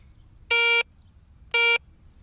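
Two slightly higher-pitched Garrett ACE 250 metal detector beeps for a pull tab, each lasting a third of a second, sound clearly about one second apart with quiet between them.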